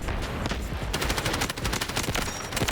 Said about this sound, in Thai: โอ้สไนเปอร์ยิงมา